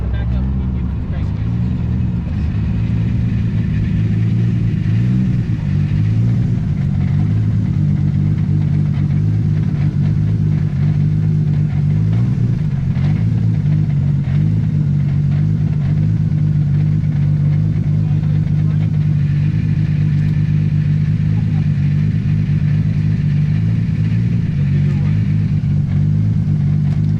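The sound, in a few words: Supra and Charger car engines running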